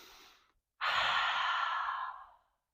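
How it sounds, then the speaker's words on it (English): A yoga lion breath, exhaled forcefully with the tongue extended: a brief soft inhale, then a loud, breathy, hissing exhale of about a second and a half that fades out, close to the listener and with no speech. "and then we're going to do a lion breath"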